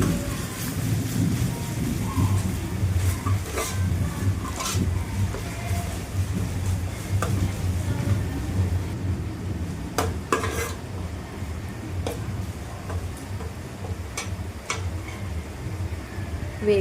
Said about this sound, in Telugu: ఇప్పుడు అల్లం వెల్లుల్లి పేస్ట్ వేస్తున్నాను, ఒక 2 స్పూన్లు. పచ్చివాసన పోయే వరకు వేయించుకుందామండి అల్లం వెల్లుల్లి.